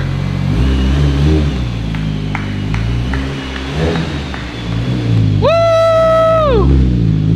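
A project car's engine revs hard and loud as it is driven for the first time, a steady mid-range roar with a sharp rising whine swelling near the end.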